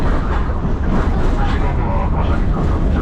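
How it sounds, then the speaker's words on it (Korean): An old-style local train runs in Kochi Prefecture, Japan, heard from inside the carriage as a steady, loud rumbling roar that stays constant throughout. A person talks over it. "옛날 기차 탄 느낌이야 소리가 칙칙하고 칙칙하고 이런 거 같아요"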